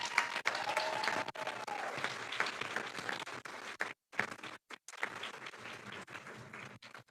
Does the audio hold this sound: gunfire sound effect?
no